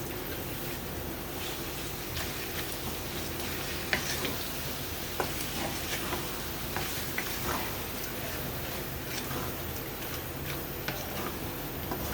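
Onions frying with jaggery in a pan crackle in a dense, steady sizzle, with occasional sharp ticks and light stirring taps close by and no voices.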